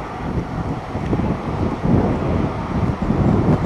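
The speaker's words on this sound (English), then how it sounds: "when it's not so fucking windy outside" Wind blows hard outdoors against the microphone, a steady broadband rumble with gusty swells throughout and no other sounds.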